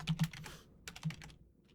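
Quiet clicking of a computer keyboard as someone types, soft irregular keystrokes in short bursts, close by and alone.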